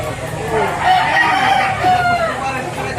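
Black Boston gamefowl rooster crowing at a poultry market in Lipa, Batangas, one long loud crow close by, with market voices and background noise underneath.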